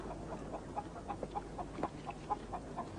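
Chickens clucking softly and steadily in a permaculture garden, faint and somewhat distant over low background noise, with no speech.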